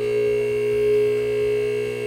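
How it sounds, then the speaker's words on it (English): Electric motor of a MaxJax two-post car lift running on 240-volt power, a steady, loud hum with strong constant tones throughout, no talking. "The motor sounds a lot faster now versus the 120 though."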